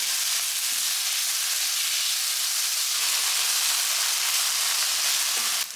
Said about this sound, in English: add in 4 tablespoons of gochujang and saute for another 2 minutes